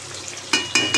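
Four pieces of rohu fish set into hot oil in a home kitchen pan, with three sharp bursts of sizzling spitting up one after another over a quiet background hiss.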